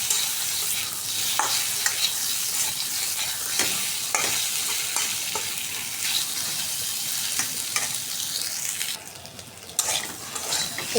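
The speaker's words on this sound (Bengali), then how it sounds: "সরষের তেলে এই কচুটা ভেজে নেব।" Taro sizzling in hot mustard oil in a pan, a loud continuous crackling fry with occasional scrapes and stirring knocks of a utensil, close and without talk.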